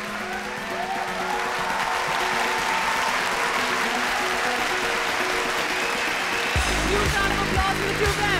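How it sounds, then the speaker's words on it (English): An awards show audience applauds on a red carpet, giving dense, sustained clapping throughout, with a voice speaking over it and music entering near the end. "let's give a huge round of applause"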